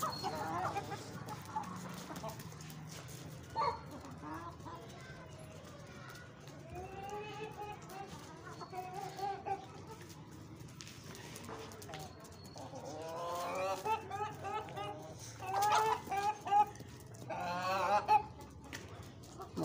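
Caged chickens cluck and call in a cluster of short, overlapping bursts, with a few higher squawks near the end, heard close over a low background hum alongside occasional talk.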